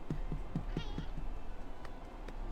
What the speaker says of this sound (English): Can you hear Momo meowing?